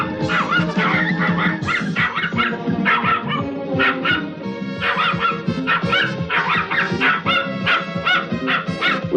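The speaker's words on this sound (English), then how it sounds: "Will you make that little dog shut up?" A small dog barks and yips rapidly and insistently, loud and close, over dense music and other sounds throughout.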